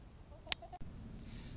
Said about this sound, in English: The chickens are pretty happy that things have melted off enough that they can come out and stand in the garden